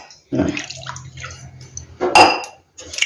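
Water poured from a glass into a pan to make sugar syrup for layered kaja sweets in a home kitchen, heard as a short splashing pour with a brief clink of a vessel, close and fairly loud.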